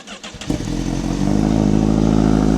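A Honda CBR1000RR-R SP motorcycle engine cranks over and fires up, settling into a loud, deep, steady idle close by.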